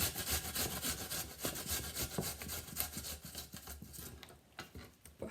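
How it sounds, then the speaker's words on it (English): Grating food on the big holes of a box grater in a home kitchen making spaghetti and meatballs, a close, quiet series of rough scraping strokes in uneven rhythm. "I'm actually going to grate it on the big holes of the grater"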